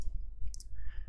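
Two sharp, close mouse clicks in quick succession against a quiet room, made while adjusting Windows compatibility settings for a Red Alert 2 program file.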